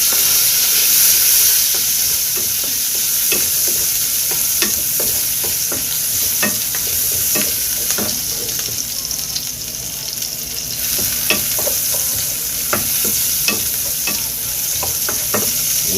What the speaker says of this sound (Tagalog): So, ilagay na natin yung bawang. Magigisa tayo.